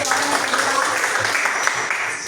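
Audience applause during a teachers' training workshop session, a dense, steady wash of many hands clapping that lasts the whole moment at an even volume.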